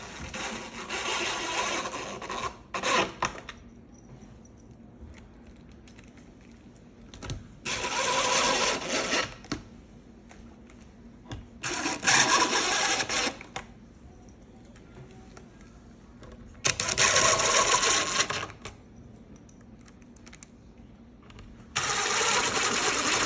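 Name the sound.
screws being driven into a wooden bench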